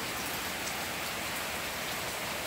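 Steady rain falls at a rural farmstead, a dense even hiss of drops on surfaces continuing without a break, fairly quiet and with no voices.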